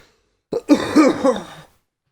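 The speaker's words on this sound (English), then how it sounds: "I need to stop coughing." A single close coughing fit, a few rough throaty bursts in quick succession, loud and alone with silence before and after.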